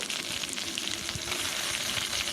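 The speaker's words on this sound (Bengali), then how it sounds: "বাটা মশলার মধ্যে আছে লাল লাল শুকনো লঙ্কা বাটা আদা ও রসুন এটা দিয়ে আমি একটু কষিয়ে নেব" A ground paste of dried red chilli, ginger and garlic frying in a pan, giving a dense, continuous close sizzle and crackle with no pauses.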